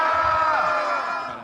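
A church youth group cheers with clapping mixed in, a loud crowd of voices shouting and whooping together at close range, easing off toward the end.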